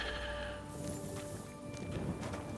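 Horse whinny in the medieval video game Kingdom Come Deliverance 2, a faint, distant neigh with soft hoof clops and rustling, quiet and brief against a low ambient background.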